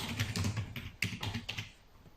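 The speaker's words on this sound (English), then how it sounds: "you can either press delete or you can just type over it" Keys clacking on a computer keyboard while editing an Excel spreadsheet cell, a quick run of close, crisp taps with one sharper keystroke midway before the typing trails off.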